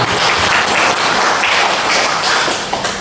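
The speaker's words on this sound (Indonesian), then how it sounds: "Tepuk tangan untuk kita semuanya" An audience at an Islamic school foundation's teaching workshop in Surakarta breaks into loud, dense applause that holds steady without pause from start to finish.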